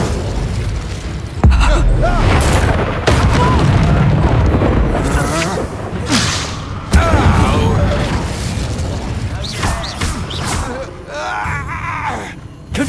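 Spell blasts and booming bursts in Hogwarts Legacy combat, several heavy impacts at intervals across the fight, loud and close, with shouted voices in between.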